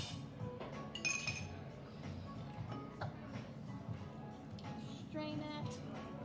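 A bitter cocktail stirred down with ice in a glass at a Sarasota bar, giving a steady run of light, close glassy clinks and rattles over several seconds, with faint background chatter underneath.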